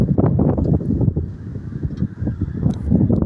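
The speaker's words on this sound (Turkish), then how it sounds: "Rüzgar da var." Strong wind buffets the microphone in continuous gusty rumbles, loud and close, with no other clear sounds, outdoors where pigeons are flying.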